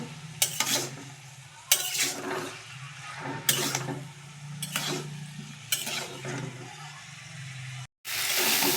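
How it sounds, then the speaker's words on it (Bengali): Fried eggplant and potato pieces are stirred and sautéed again in a pan, with a steady low sizzle and repeated scraping spatula strokes every second or two, close and moderately loud, with no talking. "সবজিগুলোকে আর একটু ভালো করে কষাবো"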